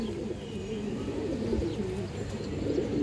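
Silver-marked pigeons cooing nearby, low soft throaty coos rolling on continuously at a quiet level over faint background noise.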